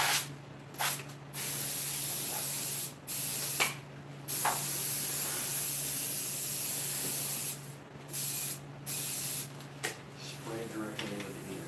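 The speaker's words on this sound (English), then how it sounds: "Spray directly into the ear." Several short bursts of aerosol spray hiss, one long sustained spray in the middle, aimed into an ear in a workshop, with a steady low hum underneath and brief pauses between sprays.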